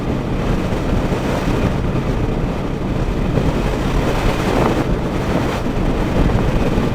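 Steady, loud wind buffeting the microphone while riding a naked 900 motorcycle on the road, a dense low roar that rumbles continuously without a break.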